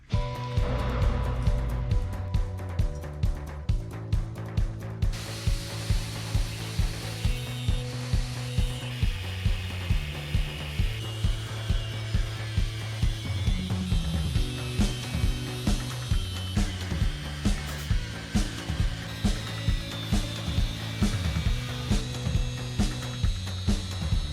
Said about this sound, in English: But we're gonna draw it out and then cut out our knife.